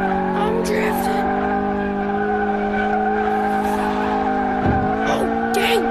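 A car drifts with sustained tire squeal and engine tones in a driving game, loud and continuous throughout, with brief higher screeches near the end.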